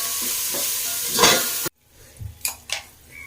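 Green chilies and mint sauté in a pan for chicken biryani: a loud close sizzle with a stirring swell, then an abrupt drop to quieter frying broken by a few sharp utensil scrapes.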